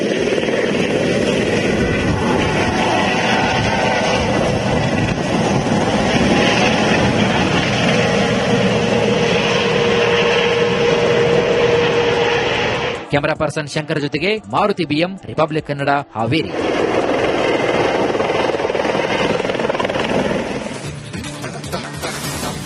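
A joyride helicopter at the Hukkeri Mutt temple fair in Haveri gives a loud, steady rotor and engine roar that fills the scene, briefly dipping midway, while a person talks over it.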